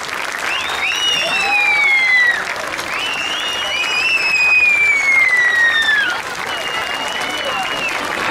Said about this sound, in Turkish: Güçlü alkışlarınızla, gelene kadar durmasın o alkışlar